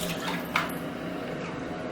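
A small model boat with paddles drops into water, a brief splash and sloshing against a faint watery background, fairly close and with no talk.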